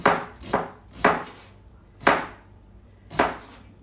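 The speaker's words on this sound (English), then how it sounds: "So I'm just doing a rough chop on these onions" Onions getting a rough chop with a knife on a cutting board, five solid, separate thunks at an uneven, unhurried pace, close and clear with no talking.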